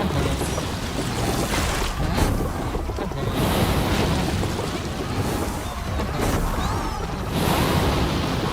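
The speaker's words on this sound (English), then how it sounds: "I leapfrog straight into the water." Water sloshing and splashing in a video game after a character leaps in, with a broad, rushing wash of surf-like noise that swells and ebbs continuously.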